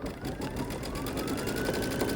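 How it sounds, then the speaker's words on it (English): A sewing machine stitching an edge-to-edge witch's hat quilting design runs fast and steady, its close, continuous rhythmic needle chatter humming without a break. "Let's start stitching."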